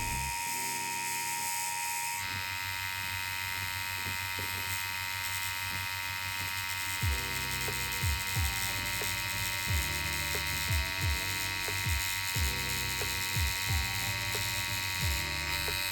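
Tattoo machine with a thin needle lining a beetle design on real skin: a steady electric buzz runs throughout, briefly starting up early, with a rhythmic, repeated pitch wobble as passes are made over the line.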